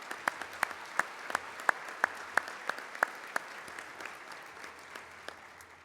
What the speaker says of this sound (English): Would you join me again in a round of applause for thanking each one of them?